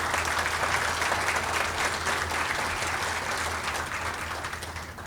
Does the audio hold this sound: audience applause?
yes